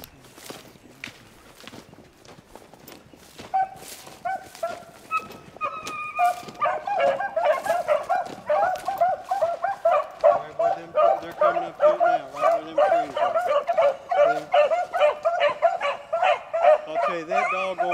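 Beagle hounds on a rabbit hunt bay and yip in a loud, sustained chorus that builds from scattered cries into near-continuous rhythmic howling, with footsteps and brush noise early on.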